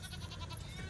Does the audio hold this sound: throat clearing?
no